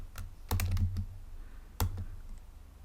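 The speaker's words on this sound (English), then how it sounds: "I can just type SA, comes up, hit return on the keyboard" Computer keyboard keys typed while entering CSS class names, in two short clustered bursts of crisp, close clicks with brief pauses between them.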